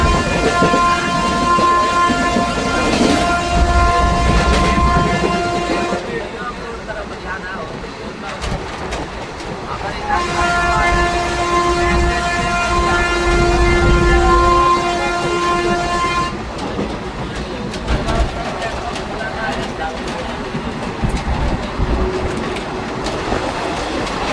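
An Indian Railways train with an AC coach rumbles past nearby. Wheels clatter steadily and sustained horn-like tones sound in several stretches, loud and continuous under occasional voices.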